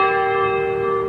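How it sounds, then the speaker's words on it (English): Church bells across the street from a mosque ring in a short, bright, sustained peal with layered tones, loud and close with no voices. "Muslims figured it was no different than Christians ringing church bells"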